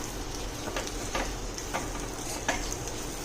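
Spiced potato chaat mixture stirred in a pan with the gas just switched off, a steady soft scraping and faint residual sizzle with a few sharper clinks of the spoon against the metal, close and alone.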